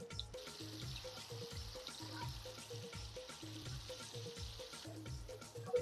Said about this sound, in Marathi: याला आपल्याला चांगला कडक फ्राय करून घ्यायचं आहे एकदम कट शिजवून घ्यायचं एकदम कडक